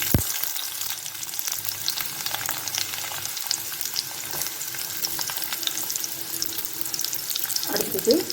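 Chopped onions hit hot sesame oil with fenugreek already in the pan, giving a loud, steady sizzle and crackle that continues throughout, with occasional stirring scrapes near the end.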